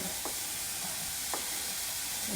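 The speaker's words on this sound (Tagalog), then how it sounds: "Prito natin yung sibuyas na maigit para kumatas yung lasa niya." Onion and chili fry in a pan with a steady, soft sizzle. Two light stirring scrapes break in partway through, and nobody speaks.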